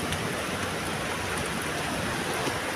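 Heavy rain pours down in a dense, even hiss that stays constant throughout the brief stretch, with no voices over it.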